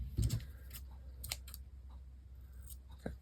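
Scissors snip black thread after a three-hole pamphlet stitch: a few short, crisp metallic cuts close up, spaced irregularly in a quiet room.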